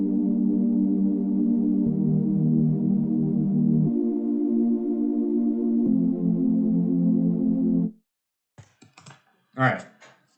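Synthesizer in music production software plays a four-chord progression of major chords, each held about two seconds as sustained pads, followed by brief computer keyboard typing and clicks.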